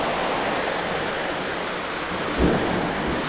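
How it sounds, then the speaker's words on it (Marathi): A thunderstorm outside a house with a leaking roof, heavy steady rain hissing loudly throughout, with a low rumble of thunder swelling briefly near the end. "बाहेर जाम गडगडता लखलखता"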